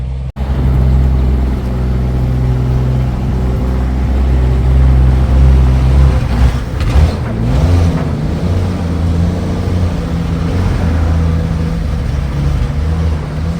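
Old International farm truck, long parked, running while driving: a loud, steady, rough low engine rumble with uneven pulsing and a brief rise in revs midway.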